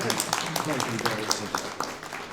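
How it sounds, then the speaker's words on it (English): An audience at a live Call of Cthulhu roleplay session during the Ballarat Heritage Festival gives a brief round of applause, the crackling claps mixed under a person talking. "give us a round of applause"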